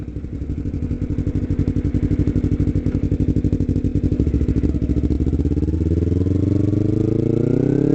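A beginner-friendly motorcycle slows under braking while its rider downshifts, the engine's steady pulsing note dropping and changing pitch as the gears come down, heard up close with no talk.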